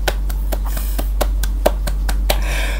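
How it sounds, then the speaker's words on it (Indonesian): One person claps their hands at an education sharing event, a series of sharp, evenly spaced claps that are close and distinct against a quiet background with a steady low hum. "Saya tepuk tangan dulu ah"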